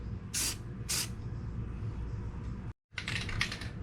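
Rust-Oleum Metallic Cobalt Blue spray paint bursting from a can onto a model truck part, two short hissing sprays, then a brief pause and a longer sputtering spray, close and fairly loud.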